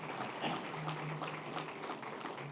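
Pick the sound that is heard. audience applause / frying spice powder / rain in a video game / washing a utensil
audience applause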